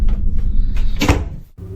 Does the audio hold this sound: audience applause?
no